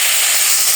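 Water poured into a hot pan of cauliflower curry sets off a loud, steady burst of sizzling hiss, brief and close.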